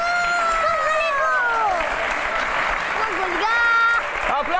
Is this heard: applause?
yes